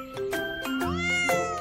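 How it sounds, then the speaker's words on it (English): A cat meows close up, a couple of drawn-out, rising and falling cries in quick succession. "Ben said, meow."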